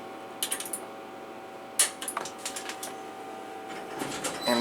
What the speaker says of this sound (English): Showing you the motor again.